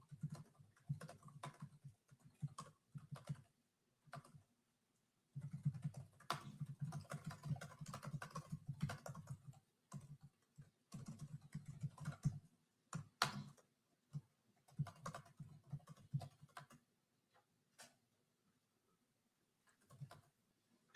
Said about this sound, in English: Oh, he's the one that's typing